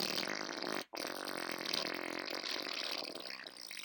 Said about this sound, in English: That's a fart that's got power to it.